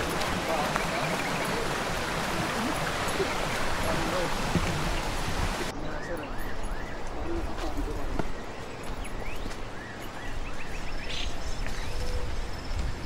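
Water flowing steadily along the stream at Alaxan Seven Falls, a continuous broadband rush that stays close and fairly loud for the whole stretch, with voices faintly present beneath it.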